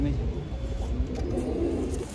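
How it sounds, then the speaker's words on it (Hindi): Khaira pigeon with black beak and yellow eyes cooing in low, steady murmurs at a rooftop coop, the soft coos running continuously through the short stretch alongside a faint voice. "खैरा कबूतर जैसे देखिए आप"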